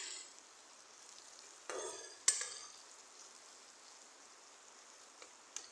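Taro stem and potato stir-fry cooking in a pan over a medium flame, a soft steady sizzle broken by a few sharp scrapes and clinks of a spatula stirring.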